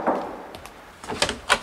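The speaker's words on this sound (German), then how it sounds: "Der Klopf." Several quick knocks land on an apartment door whose bell is broken, sharp and fairly close, with a short first rap and then a tight cluster of raps.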